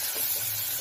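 A ground ginger, garlic and green chili paste fries in hot oil for a sardine tamarind curry, giving a brief, steady, faint sizzling hiss with no talking.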